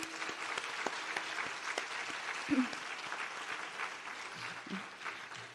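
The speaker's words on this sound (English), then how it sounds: "let's give her a round of applause for that" An audience applauds Marian Croak at a tech award celebration, a steady, moderately loud patter of many hands in a hall, with a brief voice and a cheer rising near the middle.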